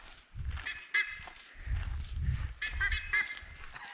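Several birds honking in a valley in Chile or Argentina, repeated goose-like calls in irregular bursts, moderately near and fairly faint over low background rumble, with no talking.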